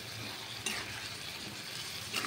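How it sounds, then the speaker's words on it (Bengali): Spice paste with chilli and turmeric powder is stirred and fried in oil for katla fish curry, giving a soft, continuous sizzle with occasional scraping strokes, quiet and close, with no voices. "তো এবার আমরা ভালো করে নেড়ে চেড়ে মশলাটাকে কষিয়ে নেব।"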